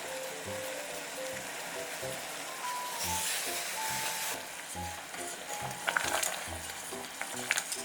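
Sugar boils in a pan as butter goes in and is stirred for a banoffee mousse pie, making a close, continuous bubbling sizzle with rhythmic spoon strokes and a few louder scrapes near the end.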